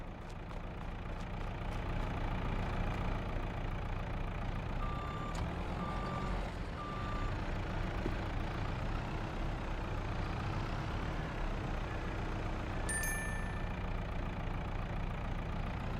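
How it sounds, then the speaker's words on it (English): Truck in Farming Simulator 22 idling with a steady engine drone while its reversing alarm sounds a few evenly spaced beeps, all fairly close and with no talk. "let's load the truck up."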